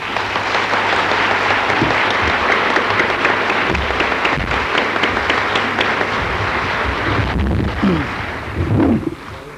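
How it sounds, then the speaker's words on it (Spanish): Loud, dense applause from a congress audience welcoming a speaker at a ufology conference in Penedès, sustained evenly for several seconds before fading slightly near the end. "os pido un fuerte aplauso"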